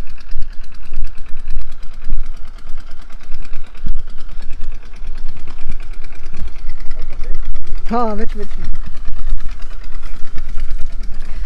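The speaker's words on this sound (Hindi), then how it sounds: "ट्यूबवेल इंजन चल रहा है" A village tubewell engine runs loudly with a steady chugging throb, close by, while someone talks briefly over it.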